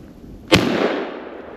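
A single sharp gunshot rings out while hunting squirrels in a snowstorm, a loud close crack followed by a brief decaying tail.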